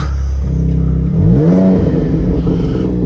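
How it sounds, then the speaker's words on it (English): Revving a 2026 Dodge Charger Scat Pack Sixpack: loud close idle, then a single throttle blip sweeps the engine note up and back down into a rumbling, gurgling idle, with no talk. "Give it a little rev."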